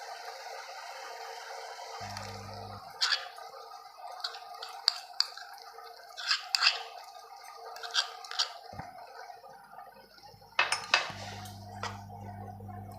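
Carrot halwa being stirred with milk in a pan: a spoon scrapes and clinks against the pan in scattered bursts over a low hiss of cooking, with no talking.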